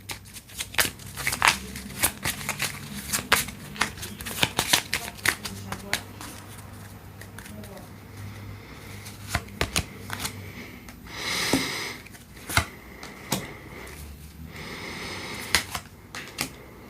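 A deck of astrology cards is shuffled close up in repeated crisp riffles and flicks, brisk and rhythmic, with a voice talking softly in the background.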